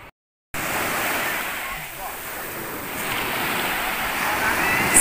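Sea surf at a beach in Mersin, a continuous broad wash of breaking waves and wind rumble after a brief dropout at the start, steady and fairly loud, with faint talk mixed in.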